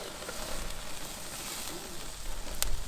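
Lamb chops sear on a barbecue grill with a steady broadband sizzle and crackle, fairly close and even, with a brief louder hiss near the end.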